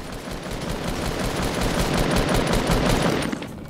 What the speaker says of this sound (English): Shouldn't have shot me, but he did.